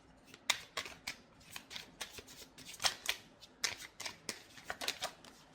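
Tarot cards are shuffled by hand in quick crisp riffles and slaps, a close sequence of sharp papery bursts with brief gaps between them, no voice heard.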